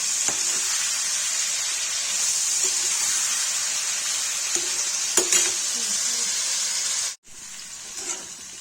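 Mutton liver frying with salt in a pan, a steady bright sizzle with occasional scraping stirs and clicks of a utensil, briefly cut off near the end before resuming.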